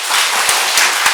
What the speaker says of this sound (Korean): 자꾸 박수 치지 마.